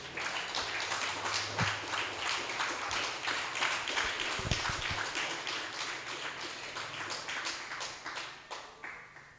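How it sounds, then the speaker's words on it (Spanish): A church congregation gives a loud round of applause during an evangelical sermon, rhythmic clapping sustained for nearly ten seconds and tapering at the end, with faint voices underneath. "Denle un fuerte aplauso al Rey, aleluya"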